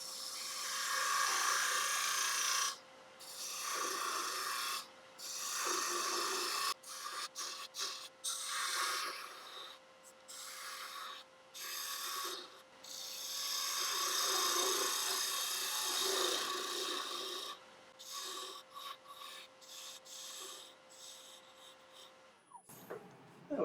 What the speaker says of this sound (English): with spindle gouge, I can just do a little bit of shaping.